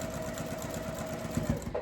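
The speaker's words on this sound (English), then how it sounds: "We will take that over to our sewing machine" A sewing machine stitches a quarter-inch quilt seam in cotton fabric, a quiet, steady rapid needle chatter close by that runs continuously with a couple of slightly louder knocks near the end.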